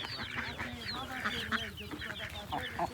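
Chicks and chickens on an open farm, with ducks nearby, cluck and peep in a busy overlapping chorus of short chirps, close and steady throughout.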